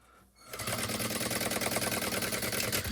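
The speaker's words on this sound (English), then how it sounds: "start at the open part, back stitch, all the way down your seam" A sewing machine stitching down the seam of a small fabric penny pouch: after a brief quiet moment it starts up into a fast, steady, close mechanical rattle that runs without pause.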